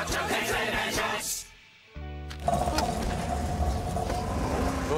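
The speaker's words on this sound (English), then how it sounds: "The old van doesn't sound too healthy" An old van's engine runs roughly, a close, uneven rumble that cuts out briefly to near silence, then sputters back with a sharp bang and keeps chugging irregularly.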